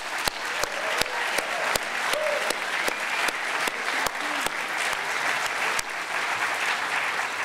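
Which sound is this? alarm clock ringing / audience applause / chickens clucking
audience applause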